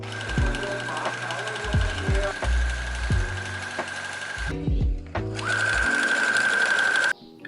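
Sewing machine stitching around the edge of a double-sided kitchen apron, a loud close mechanical whir running in bursts, with thumps as it starts and stops and a brief pause before resuming.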